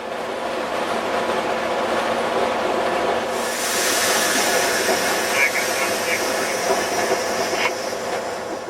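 An Illinois Central freight train rolls through the Centralia yard on a January afternoon a few degrees above zero, a steady rumbling roar joined by brighter hiss after a few seconds, with a voice talking over it.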